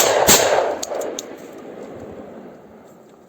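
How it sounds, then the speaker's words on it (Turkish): A single sharp gunshot cracks loudly, followed by a few fainter reports and a long fading echo. "Silah sesini duydun mu direkt."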